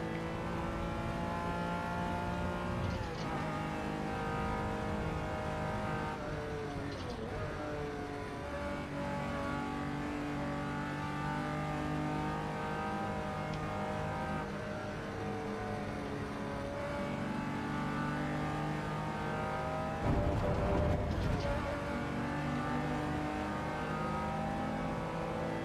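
A Datsun 240Z in the racing sim Assetto Corsa EVO, its engine revving up steadily with rising harmonic whine and brief dips at gear changes, loud and continuous under hard acceleration with a sharp shift burst near the end.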